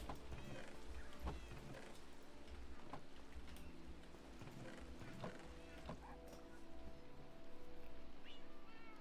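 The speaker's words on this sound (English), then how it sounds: "Love all the kitten meows." Kitten meows from the video game Minecraft, several short high cries scattered through busy in-game sounds, with people talking over them.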